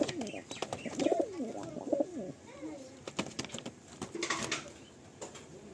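Kalasabuj pigeons cooing in a loft, with several bursts of warbling coos close by, then scattered clicks, rustles and wing flutters.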